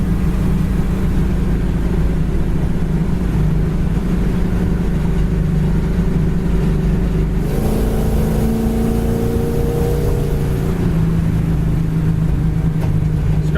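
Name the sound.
1968 Chevy Camaro engine running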